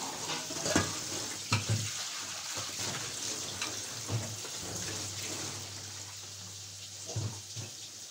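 Besan pakoras frying in a home kitchen, a steady sizzling hiss of hot oil running throughout with occasional soft clinks and stirring knocks, fairly close and continuous with no talk over it.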